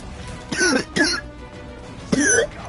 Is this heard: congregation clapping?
no